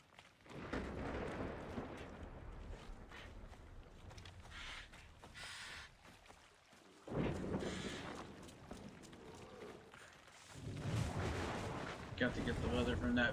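Exploding jars in the video game Assassin's Creed Odyssey go off as heavy booming blasts, with a few distinct bursts and rumbling tails set against quieter gameplay sound between them.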